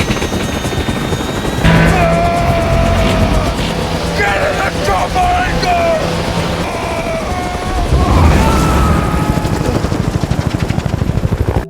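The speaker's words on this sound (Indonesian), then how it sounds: "Setelah itu 2 helikopter militer datang ke sana." Two military helicopters arriving in an action film scene, loud thudding rotor beat filling the track alongside bursts of gunfire and booms, with a voice talking briefly.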